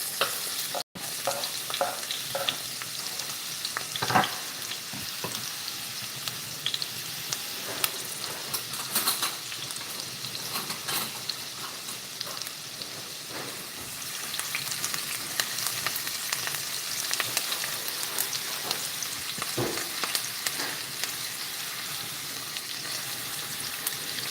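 Onions sizzle steadily in a hot pan on a home stove, with repeated scraping strokes of a spoon stirring them, loud and close and continuous for the whole stretch, without any talking.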